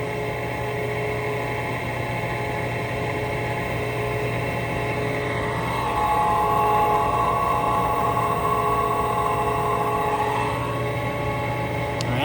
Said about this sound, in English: I think the problem's our inducer. She's been running now for a little while.